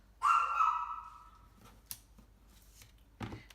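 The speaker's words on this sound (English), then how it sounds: "Sorry about the dog." A dog barks once loudly, then gives a few fainter yips and scuffles in a quiet room.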